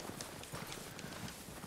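Horse hooves clip-clop in a quick, steady rhythm, a run of sharp knocks at moderate distance with no voices, from the video game Red Dead Redemption 2.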